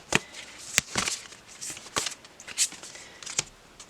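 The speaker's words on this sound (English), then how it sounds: "I do feel like I'm going to pull some more of these cards here quickly." Tarot cards being shuffled and drawn by hand: a series of crisp riffling snaps and papery flicks in an irregular rhythm, close and fairly quiet, with no talking.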